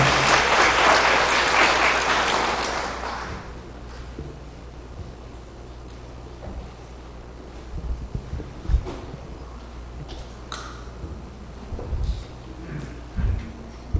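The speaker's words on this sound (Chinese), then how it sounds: "拍手一下好不好？" Applause fills a church service, a dense burst of congregational clapping that fades out within a few seconds, leaving quiet room noise with scattered small knocks and shuffles.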